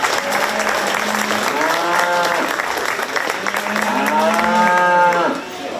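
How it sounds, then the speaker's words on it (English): Applause from a county fair crowd at a 4-H/FFA market beef show fills the ring steadily and near, with cattle mooing twice in long calls over the clapping. "Let's go ahead and give these exhibitors a round of applause,"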